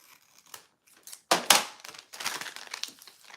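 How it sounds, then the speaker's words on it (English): Paper for a travel journal is folded and slit with scissors, giving a run of close crinkles, sharp snips and crisp crumpling sounds without speech. "I'm gonna fold this in half and cut a slit on the top for this one."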